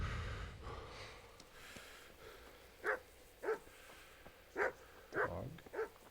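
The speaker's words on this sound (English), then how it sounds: "Dog." In Kingdom Come: Deliverance, a dog gives a handful of short, gruff barks in an irregular rhythm, moderately close, over a faint background ambience.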